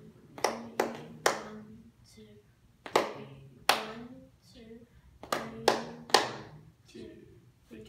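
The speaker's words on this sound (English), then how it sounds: "Both of you count 1, 2, 3 and clap the rhythm on the right hand." Two people clapping a counted three-beat rhythm with their hands during a piano lesson, sharp distinct claps in short groups separated by brief gaps, close and fairly loud, with faint voices underneath.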